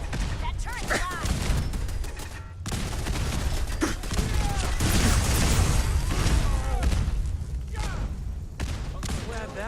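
Automated turret in Fallout 4 firing rapid bursts of gunfire, dense and loud, with booming impacts and clatter running almost continuously, a short gap near the start.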